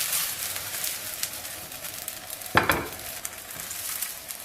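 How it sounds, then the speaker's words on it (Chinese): Small scallion pancake cooking in a preheated, lightly oiled flat pan, giving a soft steady sizzle with one brief louder burst of frying partway through and no speech. "记住，烙这个饼一定是锅热下饼"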